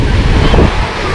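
Surf breaking on a busy public beach at Lazarevskoye, Sochi, on the Black Sea, a steady broad wash of waves with some wind noise on the microphone, continuous and fairly loud with no clear voices.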